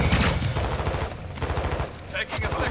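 Rapid bursts of automatic gunfire in Modern Warfare II, dense crackling volleys of shots overlapping with battlefield noise, fairly close and sustained through most of the stretch before a short lull and another burst.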